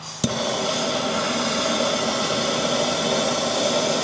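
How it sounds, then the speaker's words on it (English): A torch roars steadily as it burns seam sealer off the body of a 1958 Plymouth, a broad continuous hiss close by after a sharp click at the start, with no talking. "I'm going to burn out the seam sealer that runs along this top edge"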